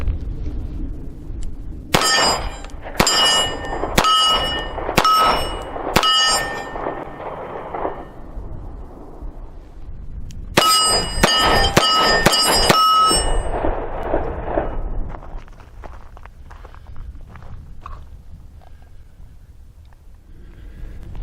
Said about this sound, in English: Let's try 5 rounds at 10 yards on that steel plate